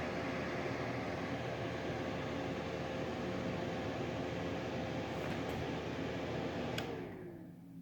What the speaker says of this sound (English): It turns the air conditioner on and off.